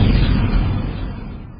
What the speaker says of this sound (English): a string of deafening explosions drowned out my father's voice